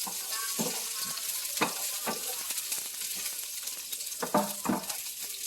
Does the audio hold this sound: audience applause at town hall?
no